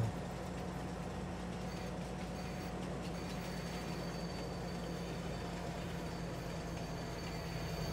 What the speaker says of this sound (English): So we are driving a train right now.